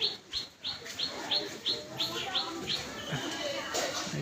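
A flock of pigeons rises together, a rapid regular series of about ten sharp chirping calls or wing claps over faint background noise, close and fairly quiet.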